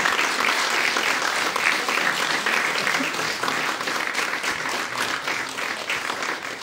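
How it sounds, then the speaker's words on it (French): An audience at a live French YouTube evening show claps in sustained, dense applause that stays loud and even from start to finish, heard close. "vous pouvez l'applaudir encore une fois"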